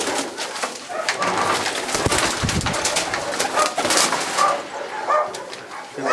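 Racing pigeons coo and flutter inside a loft, soft repeated calls close by with rustling wings and scuffing, while a dog barks briefly in the background.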